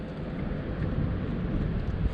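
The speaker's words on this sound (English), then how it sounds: "that wind's killing me" Wind on a riverbank beside the Tweed River while fishing with lures, a steady, loud low rumble buffeting the microphone throughout, with no voices.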